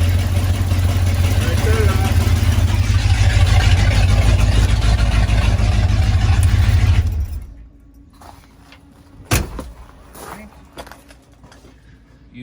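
A car engine fitted with a freshly rebuilt Holley 4 barrel carburetor, with a possible fault on cylinder 4, runs loud and steady with a heavy low rumble for about seven seconds, then cuts away to near quiet with brief voices.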